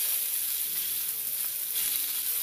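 Steady, dense sizzling of meat frying in a hot pan for meat pilaf, a continuous crackling hiss with no talking.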